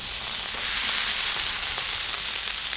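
American wagyu beef sizzles and crackles steadily as it cooks on a hot surface, a bright continuous frying hiss with small pops, close and loud, without voices.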